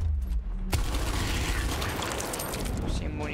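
Gunfire in the video game Gears Tactics, a sudden sharp blast followed by a dense, sustained burst of shots and explosions, loud throughout, with a voice speaking briefly over the start.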